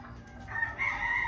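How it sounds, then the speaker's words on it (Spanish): A rooster crows nearby on a home property where piloncillo is being made, its drawn-out call rising clearly over a low steady background hum. "¡Uy, gallo!"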